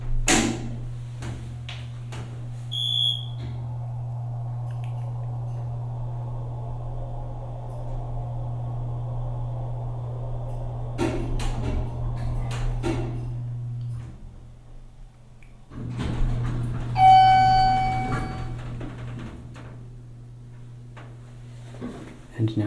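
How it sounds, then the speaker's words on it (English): A Southeastern hydraulic elevator at the UMSL Education Auditorium makes a round trip, with a steady low pump hum, a pause, clunks and rattles of the car and doors, and a bright chime partway through. "So what we'll do is take a full round trip on the elevator first"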